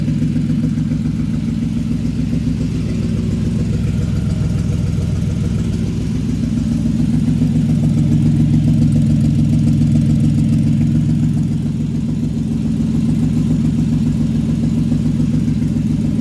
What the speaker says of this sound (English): Idling great though, nice and smooth.